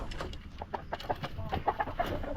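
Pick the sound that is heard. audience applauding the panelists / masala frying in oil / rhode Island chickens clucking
rhode Island chickens clucking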